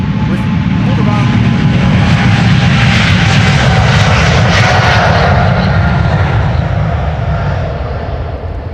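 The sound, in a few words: jet airliner departing Amsterdam Schiphol Airport Polderbaan runway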